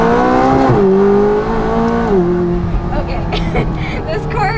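A McLaren 570S Spider with carbon ceramic brakes pulls hard, its engine note holding loud and steady before the pitch drops at a gear change and the revs fall away, with voices in the cabin over the end.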